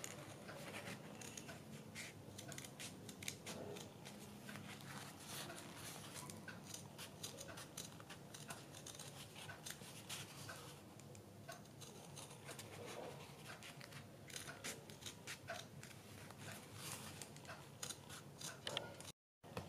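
Scissors snipping through fabric while a bell sleeve is cut along marked lines, a faint, quiet run of repeated crisp cuts and rustling cloth, with no talking.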